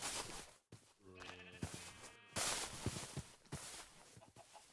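A Minecraft sheep gives a couple of short, wavering bleats with a clucking fowl nearby. Thumps and game sounds are scattered around it, and there is no talking.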